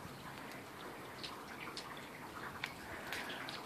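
Rain falling on a spring day in a side yard garden, a faint, steady hiss with occasional soft drips standing out, distant and continuous.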